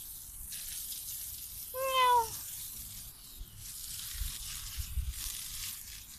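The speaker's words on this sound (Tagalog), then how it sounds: "Meow." A single clear cat meow rises and falls briefly, standing out over faint background hiss and a trickle of water.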